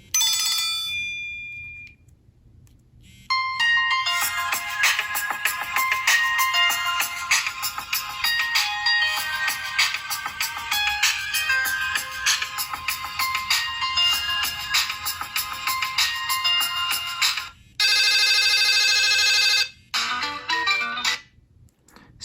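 A Nokia Asha 300 phone from 2011 plays its built-in ringtones one after another through its loud speaker at maximum volume. Bright, repeating electronic melodies run for most of the stretch, shifting to different tunes near the end, after a brief quiet start.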